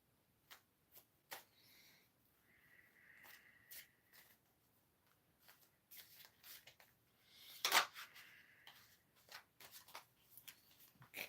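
Marseille tarot cards are shuffled and drawn from the deck, making soft riffles, taps and slides with one brisk flurry partway through. The sounds are close and quiet, and no one speaks.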